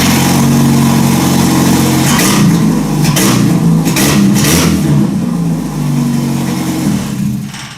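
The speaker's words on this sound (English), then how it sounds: "with just the catalytic converter, almost sounds like a dragster. 4-cylinder dragster." A Jeep 4-cylinder engine with the muffler deleted and only the catalytic converter fitted runs loud and raspy up close. It starts at a steady idle, blips through several sharp revs, then drops back to idle.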